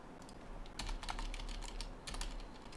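Quick, light keyboard typing while SIM cards are labelled during a dual-SIM phone setup, with clicks coming in dense bursts and short pauses, close and fairly quiet.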